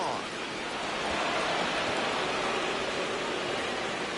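Heavy rain pours down without letup in MLB The Show 26, a dense, even hiss of rain that stays loud and close for the whole stretch.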